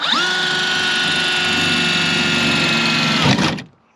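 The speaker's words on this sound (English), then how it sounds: "Got the pilot drill." A power drill bores a pilot hole through the hood of a Jeep WJ, a loud high whine spinning up, holding steady for about three seconds, then cutting off abruptly.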